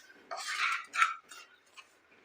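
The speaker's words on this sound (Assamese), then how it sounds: "এইদৰে 2 মিনিট সময় কেৰাহীখনতে লৰাই আছোঁ" Rice flour laru mixture being stirred in a wok for Assamese laru: a few short scraping and clinking strokes of a utensil against the pan, close and moderately loud, with no talk.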